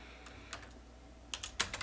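Someone types on a computer keyboard while entering a measure in Power BI. A few scattered keystrokes come first, then a quicker close burst of clicks near the end, all fairly quiet with no speech.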